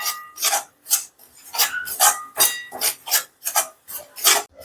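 Jaggery powder being stirred into churma ladoo mixture in a pan, a steady series of about ten rhythmic scraping, rubbing strokes, close and moderately loud, with no talking.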